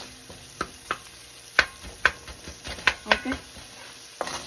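Onion and garlic stirred in a pan for pansit, with a utensil scraping and clacking in irregular sharp hits over a faint sizzle, and a brief word spoken.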